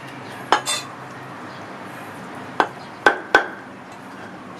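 A few sharp knife chops on a cutting board while cutting pork into small pieces, spaced irregularly, with quiet background hiss between them.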